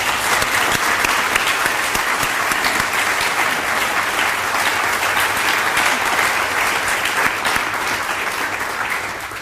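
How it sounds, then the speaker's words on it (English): A large audience gives sustained, loud applause for Teacher of the Year 2022 nominees, a thick, even roar of clapping that tapers slightly at the very end. "Let's please give all of our nominees a round of applause."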